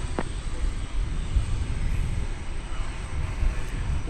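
A jet airliner taking off from runway 18 left at DFW Airport, heard as a steady, distant roaring rumble of engines that holds at constant level throughout.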